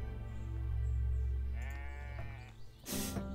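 Goats bleating in the video game The Stillness of the Wind, a few wavering animal calls over a steady low ambient hum, followed by a brief sharp noise burst near the end.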